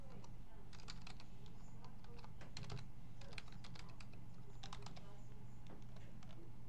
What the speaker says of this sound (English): you simply type it in